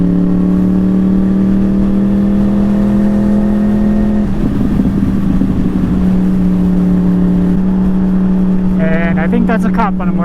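A Yamaha R1 sport bike ridden on a commute, its engine droning steadily close to the microphone with a shift in pitch midway and rising wind rush.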